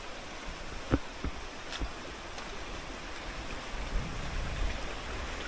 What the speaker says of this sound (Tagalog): Yan, ulan, no?